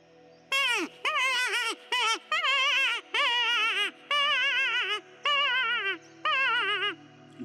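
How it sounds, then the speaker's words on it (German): A series of six or seven loud, drawn-out squealing wails from a wooden hare distress call lure, each a wavering high-pitched cry with short pauses between, alone. "Die Hasenklage"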